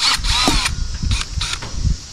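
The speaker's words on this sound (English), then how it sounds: "So we're going to hit that spot with the drill." A power drill whirs in short bursts into the tire of a Cub Cadet LT46 riding mower, stopping and starting several times with a high grinding whine, close by and loud.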